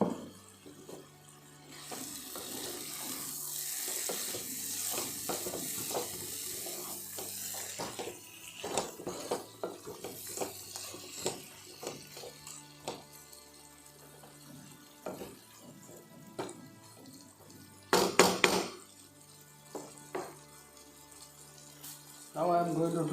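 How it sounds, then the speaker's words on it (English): Prawns being stirred in a pan for a prawn pickle, with repeated scraping and stirring knocks over a watery, running-tap-like hiss and a brief louder burst of clatter near the end. "Give it a good stir."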